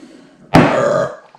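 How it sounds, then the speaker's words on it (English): A single loud, close belch after drinking a Clown Shoes Circle of Heroes 2 harvest IPA, lasting about half a second and standing alone. "Ooh, burp."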